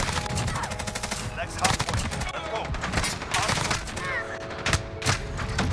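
Rapid automatic gunfire in Modern Warfare, likely from a Bruen MK9, crackles in dense bursts and volleys throughout, loud and continuous, with faint game noise underneath.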